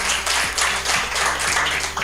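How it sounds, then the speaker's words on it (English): An audience at a marathon stakeholder lunch claps together, a dense, steady burst of applause filling the room for a couple of seconds. "Can we all clap for the people of Kasese?"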